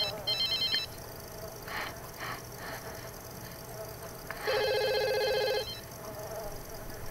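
A telephone ringing in The Sims Life Stories video game: two bursts of electronic ringing, a short one at the start and a longer one later, over faint game background and some talk.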